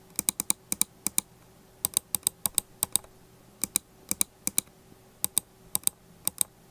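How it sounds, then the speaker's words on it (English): Left and right buttons of a Dierya Falcon RGB honeycomb gaming mouse clicked in quick bursts of two to four crisp, close, sharp clicks separated by short pauses, over a quiet background. "I really like the sound that the left and right click makes"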